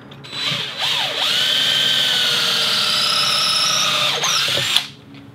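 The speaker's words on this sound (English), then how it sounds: "can drill that lead hole" A power drill boring a lead hole in wood whirs steadily for about four seconds, its pitch rising as it spins up and dipping briefly before winding down, close and loud.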